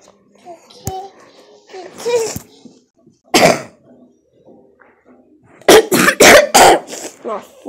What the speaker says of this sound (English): my coughing ruined the act